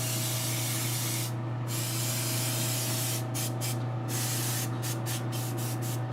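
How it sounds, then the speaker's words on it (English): An airbrush sprays orangey mocha paint onto armor pieces, a steady close hiss that breaks off in a few short pauses and quick on-off bursts, over a constant low compressor hum. "So I'm just kind of spraying it nice and even, I guess."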